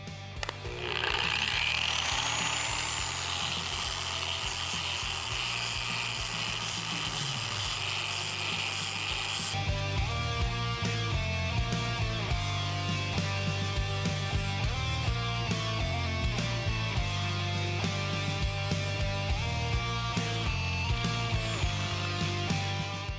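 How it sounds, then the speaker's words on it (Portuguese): An Einhell TE-AG125CE 1100 W angle grinder fitted with a sanding disc runs at low speed, stripping paint from a surface. It gives a steady, close droning whir with a gritty rasp, and the motor tone shifts and brightens about halfway through. "Veja como o disco de lixa em baixa rotação, utilizando ela como lixadeira, remove a tinta."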